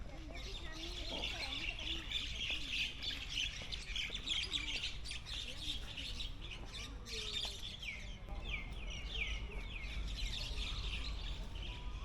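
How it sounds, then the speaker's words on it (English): Birds chirp and call continuously around a temple site in Ayutthaya, Thailand, with a hoopoe among them, a dense mix of tweets and squawks at moderate distance over steady background hum. "I think it's a hoopoe"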